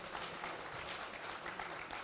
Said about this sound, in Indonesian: Tepuk tangan dong boleh untuk Pak Mahfud MD